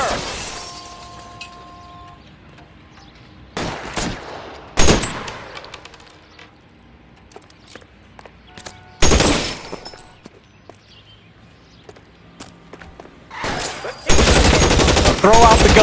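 Video game gunfire in L.A. Noire: several loud bursts of shots break out at irregular intervals, with quieter stretches of ambient noise between them.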